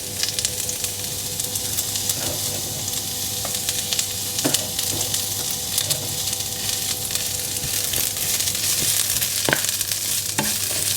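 Fresh spinach sizzles and hisses steadily in a hot frying pan, with faint scraping and clicking from stirring scattered throughout; no voices are heard.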